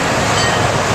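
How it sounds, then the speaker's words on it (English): A train rushes past near a Boston duck tour, a loud, dense roar that fills the whole brief moment without a break. "There's a train coming."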